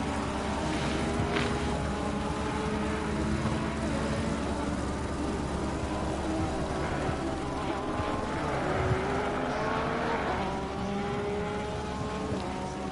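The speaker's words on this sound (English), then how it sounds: "2 Lamborghinis now running side by side, 9th and 10th." Lamborghini GT race cars in Assetto Corsa Competizione running side by side at Imola, a steady droning engine roar with shifting pitch throughout, heard under continuous commentary.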